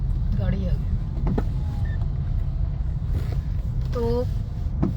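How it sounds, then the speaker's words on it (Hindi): A car approaches on a street in Karnal, its engine a steady low rumble under a busy outdoor scene, with brief whining tones and a voice speaking nearby. "गाड़ी आ गई।"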